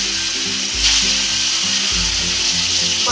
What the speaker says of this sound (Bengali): ধোঁয়া উঠছে, পটলগুলো আগে ছেড়ে দিচ্ছি।